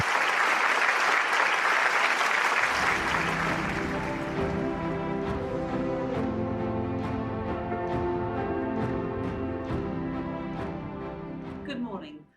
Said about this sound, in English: let us welcome Dr. Sarah Gilbert with a warm round of applause.